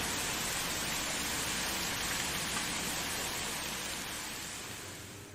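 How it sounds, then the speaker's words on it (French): Steady rain falling outdoors at night, a dense even hiss of drops on surfaces, fairly faint and constant before fading slightly at the end, with no talk. "Ok, bon, il pleut."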